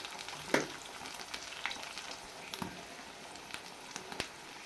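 A potato and egg mixture fries in a pan, sizzling softly and steadily with scattered sharper crackles and stirring scrapes, close and moderately quiet.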